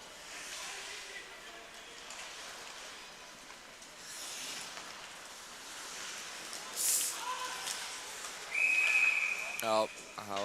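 A referee's sharp whistle blows late in a men's league match between SA Víkingar and Fjölnir, cutting in briefly after a stretch of arena noise with a commentator talking.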